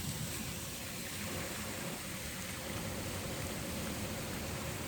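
Water rushing and pouring over the Ludlow Mills waterfall in Massachusetts, a dense, steady broadband roar heard at a distance, faint and unbroken with no voices.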